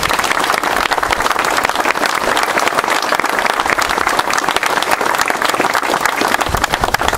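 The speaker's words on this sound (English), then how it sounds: "let's give them a round of applause" A large crowd applauds loudly and steadily, a dense wash of many hands clapping without pause.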